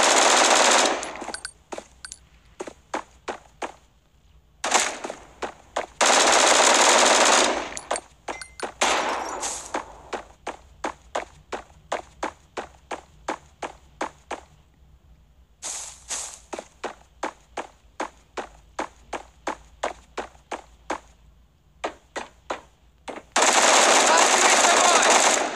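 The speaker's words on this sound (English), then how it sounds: "And I'm shooting at their feet." Rapid bursts of automatic gunfire from the online first-person shooter Bullet Force, loud repeated volleys separated by short pauses, with sharp individual shots and dense sustained stretches.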